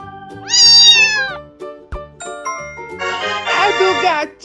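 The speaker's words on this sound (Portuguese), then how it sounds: "É do gatinho!" A kitten meows clearly up close, one drawn-out call followed after a short pause by a second longer, wavering meow, alone with no talking over it.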